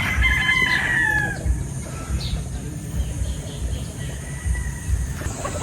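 A rooster among a flock of imported chickens crows once near the start, its call rising and falling over about a second, followed by scattered clucks and farmyard noise that carry on steadily underneath.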